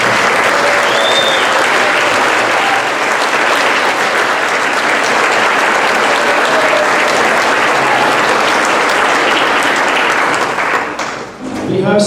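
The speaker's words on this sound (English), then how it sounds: "let's give them a huge round of applause." Concert audience at a spring school band concert applauds eighth graders with loud, sustained clapping from a large crowd for about eleven seconds before it trails off at the end.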